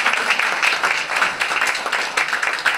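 An audience applauds at a French political gathering, with dense, steady clapping filling the room at a fairly loud level, with no pause and some voices faintly mixed in.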